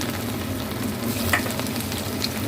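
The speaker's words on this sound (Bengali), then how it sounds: "এই আমি কোপ্তাগুলো এবার ভেজে নেবো একটা একটা করে।" Koftas fry in hot oil with a steady, close crackling sizzle that holds level throughout, with faint stirring scrapes and no talk.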